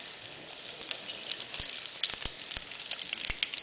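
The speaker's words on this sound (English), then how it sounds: "I gently put it into the hot oil." Macaroni and cheese frying in hot oil about two inches deep, giving a steady bright sizzle with scattered crackles and pops, heard close and alone without talk.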